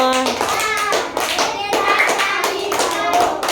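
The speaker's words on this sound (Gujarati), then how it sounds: "ચાર કેતા તાળી પાડો" Sharp hand claps in a quick, uneven series, with a voice chanting over them close by.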